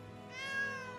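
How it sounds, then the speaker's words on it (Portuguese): A cat meows once in the video game Granblue Fantasy: Relink, a short rising and falling call, faint and alone. "O gatinho!"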